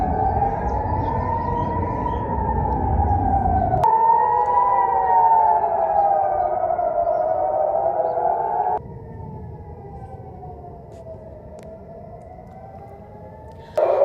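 Air raid warning sirens wailing across Israel during an attack alert, a loud sustained rising-and-falling civil defense tone that sweeps slowly for the whole stretch, dropping in level partway through, with no voices over it.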